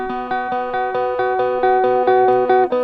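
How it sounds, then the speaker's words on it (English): Dry electric guitar stem with no processing, playing a repeated rhythmic chord pattern of clear picked notes, close and even in level, alone without voices. "This guitar on the right sounds like this without any plugins."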